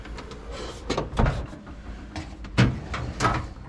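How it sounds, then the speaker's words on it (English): A drawer in a small garage tool box holding hammers slides open with a couple of rattling metal scrapes and clunks, close and fairly loud. "It's another one of my hammer drawers."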